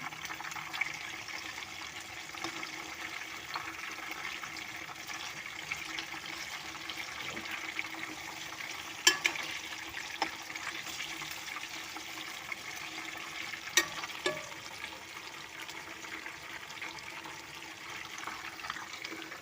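Chicken 65 pieces sizzle and crackle in hot frying oil as they are turned, a steady close hiss with occasional louder pops and utensil clinks, no talking.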